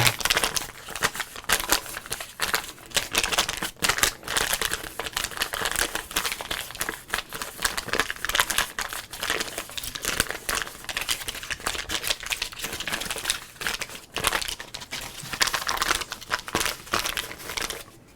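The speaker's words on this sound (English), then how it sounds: "That's good crinkling." A 1990 Upper Deck baseball card pack wrapper is crinkled and crumpled close up for a long stretch, dense crisp plastic crackles in uneven rapid bursts with no talking.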